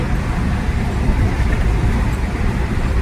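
A car passes through a very large highway tunnel, its engine and tyre roar merging into a steady, loud, echoing wash of traffic noise that stays dense for the whole stretch.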